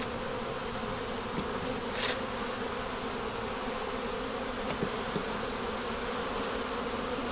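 Honey bees swarm and buzz around frames of an opened hive holding the queen, eggs and brood, a dense steady drone with a few brief louder passes of single bees close by.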